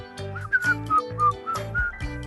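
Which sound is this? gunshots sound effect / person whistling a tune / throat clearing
person whistling a tune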